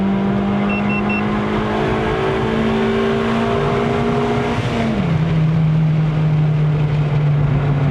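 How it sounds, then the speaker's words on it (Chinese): A Toyota Vios 1.5J NCP93 with a five-speed manual climbs a mountain road, its engine holding a steady high-rev tone before dropping sharply in pitch on a downshift, loud and continuous inside the cabin with no speech. "那个声浪挺不错的，好听哎，尤其是降档那方面好听。"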